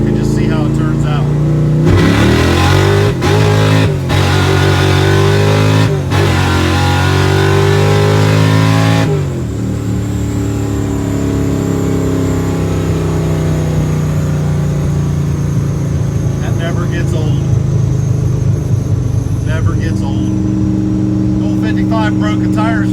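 An old 1955 car with a 355 engine pulls hard through the gears, loud and close, the engine note climbing and dropping at each shift before settling into a steady drone.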